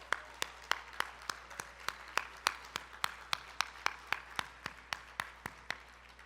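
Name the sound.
audience applause at gala opening remarks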